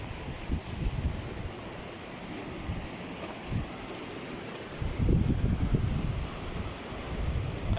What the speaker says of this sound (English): The waves become more brutal.